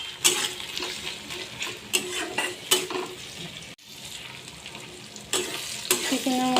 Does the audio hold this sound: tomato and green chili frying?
yes